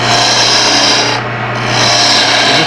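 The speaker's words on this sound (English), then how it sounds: "I'm using a small bowl gouge on this" A small bowl gouge cuts wood on a lathe, giving a steady, loud, continuous rasping shear with a constant motor hum underneath and a brief dip midway.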